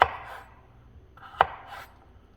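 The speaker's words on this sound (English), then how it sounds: "So just cutting them into small pieces because I want them to cook quick." A knife chops potatoes into small pieces on a cutting board, with two crisp chopping strikes, one at the start and one midway, and softer rubbing and scraping between them. No one speaks.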